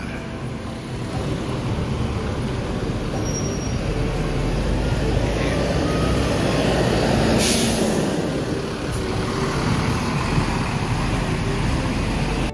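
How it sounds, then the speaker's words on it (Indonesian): Cahaya Kembar Jaya (CKJ) intercity bus departing toward Medan on the Banda Aceh–Medan–Pekanbaru route: a loud, continuous low diesel rumble with road noise, a brief hissing burst midway, and no talk. "Ini CKJ segera berangkat menuju ke Medan ya."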